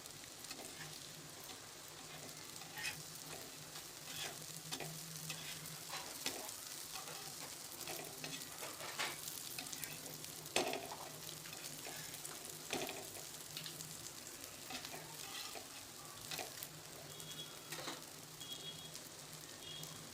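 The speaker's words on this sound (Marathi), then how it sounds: "मस्त अशा क्रिस्पी होईपर्यंत छान भाजून घ्यायचे." Mixed-sprout tikki patties pan-frying in a little oil over a raised flame until crispy, a steady close sizzle running throughout with occasional sharper crackles and spatula taps, no talking.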